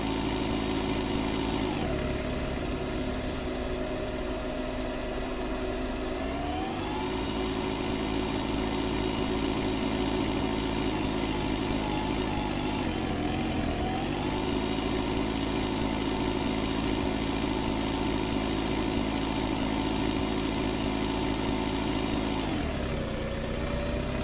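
A farm tractor engine idles and runs continuously nearby at a steady mid-pitched drone, with its tone dipping and rising a few times as the revs change, and no talking.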